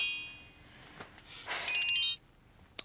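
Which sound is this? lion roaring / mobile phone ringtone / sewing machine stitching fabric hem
mobile phone ringtone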